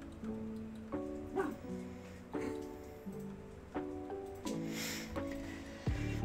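Lilo the dog whimpers and gives short, high barks in repeated bursts, close and clear, with whiny yips between them and a faint background hiss.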